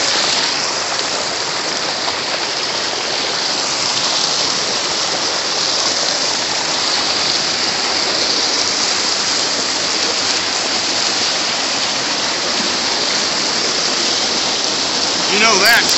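A clear mountain creek on the Tokopah Falls trail rushes and funnels over rocks, a loud, continuous broadband roar of flowing water filling the whole span, close to the listener.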